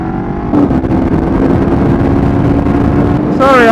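A motorbike engine held at a steady loud drone, then a sharp throttle rev rising in pitch at the end, close and alone without talk.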